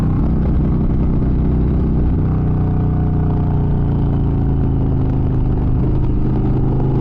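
An expensive motorbike is ridden at a comfortable pace, its engine droning loud and steady close by with a low, even rumble and slight shifts in pitch, alone without talk.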